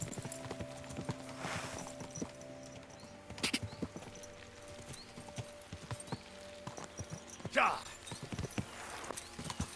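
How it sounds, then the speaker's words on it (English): Horses' hooves clip-clop in steady rhythm as riders travel in the medieval game Kingdom Come: Deliverance II, moderately near, with occasional louder rustles and characters talking over the hoofbeats. "We should spur the horses on."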